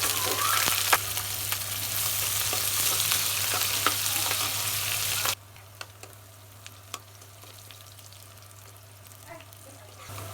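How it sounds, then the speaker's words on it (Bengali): Onions and green chillies fry in hot oil in a wok, a loud crackling sizzle that drops abruptly to a quieter simmering hiss about halfway through, with a few scattered spatula taps and no speech. "তেলের উপরে দিয়ে দেব পেঁয়াজ।"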